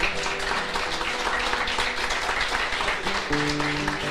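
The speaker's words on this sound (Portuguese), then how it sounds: "Dê um aplauso a Jesus." Church congregation clapping in a steady dense patter at moderate loudness, with some music or voice tones underneath.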